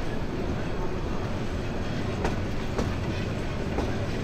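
Mahanagar Express train rolling past Narsingdi railway station, heard from on board as a steady, loud rumble of wheels and carriages with faint rhythmic clicks, and no talk over it.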